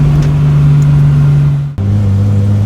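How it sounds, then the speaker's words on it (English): A small Triumph GT6 Mk3 sports car engine drones loudly up close, then briefly cuts out and resumes at a lower, steady pitch. "it makes a pretty good amount of noise for a little car"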